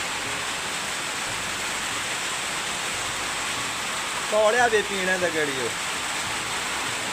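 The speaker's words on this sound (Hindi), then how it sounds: "यार तो बहुत ज्यादा बारिश लग रहा है" Heavy rain pours down in a hill village, a dense, even hiss that holds for the whole stretch while someone speaks briefly over it.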